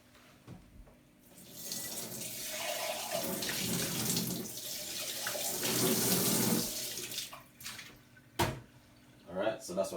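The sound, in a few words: lemon and chilli pepper drink poured into a glass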